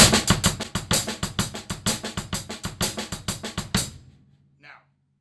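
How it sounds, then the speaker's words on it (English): A Purdie Shuffle drum groove plays with the kick drum shuffling under the hands: a tight, rapid run of evenly accented hits for about four seconds, then it stops and a faint sound trails into silence. "the kick drum shuffling, and you've got this."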